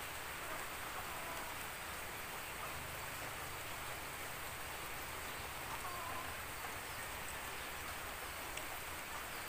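Heavy rain falls steadily on a rural hillside farm, a dense continuous hiss of drops on surfaces, fairly faint and unchanging throughout with no voices.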